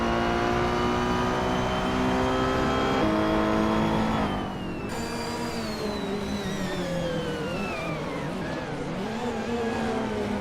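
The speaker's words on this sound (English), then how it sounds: "Bot Root 3 Boy Gaming Studios is driving a 2014 Suzuki Swift, which isn't exactly a speed demon but can be nimble" A 2014 Suzuki Swift racing car in a racing game roars with a loud, continuous engine whine, climbing in pitch, then dropping at a gear change and rising again, with no voices.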